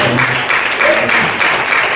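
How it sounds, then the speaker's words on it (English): Steady applause from a church congregation, a continuous wash of many hands clapping together at a fairly loud level. "Clap your hands and give God praise."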